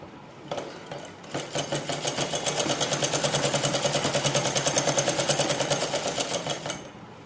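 Close and loud, a sewing machine runs up to speed and stitches a petticoat with a rapid, evenly pulsing chatter for several seconds before winding down.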